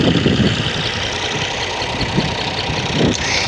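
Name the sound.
tractor engine running during tractor tug of war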